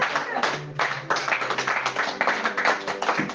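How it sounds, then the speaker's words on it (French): A church congregation applauds with brisk, uneven clapping from many hands, bright and close, mixed with voices calling out over it. "On acclame un peu le Seigneur, s'il vous plaît"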